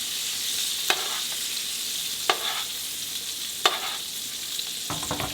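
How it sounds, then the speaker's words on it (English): Butter sizzles and spatters in a frying pan with lemon juice added, a constant close hiss broken by three sharp spoon clinks as the hot butter is basted over the food, with no voices. "Using the butter. Again, basting."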